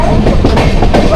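Another train, the Mandovi Express, approaches from the opposite direction on the line near Chiplun, heard as a brief, loud, continuous rumble of wheels and wagons.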